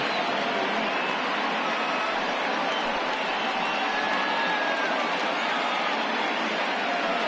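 A baseball stadium crowd of around 24,000 cheers in a loud, steady roar that fills the whole stretch and never lets up.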